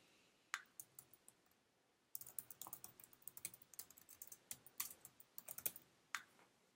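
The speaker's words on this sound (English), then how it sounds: "Enter the information." Fingers tap on a computer keyboard while golf player details are entered into roster software: a few isolated clicks, then a quick, steady burst of crisp keystrokes close to the mic, with no talking.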